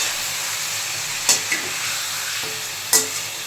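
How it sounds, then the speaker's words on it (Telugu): Washed raw chicken stirred in a hot pan, a steady soft sizzle throughout with two sharp scraping clinks of a spoon against the pan midway and near the end, no voices. "చికెన్ యాడ్ చేసుకొని ఒక 2-3 నిమిషాలు బాగా కలుపుకుందాం."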